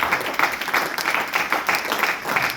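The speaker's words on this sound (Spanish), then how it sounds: "den un aplauso al Señor" Church congregation clapping in praise, a fairly loud burst of many hands in quick, uneven rhythm filling the whole moment.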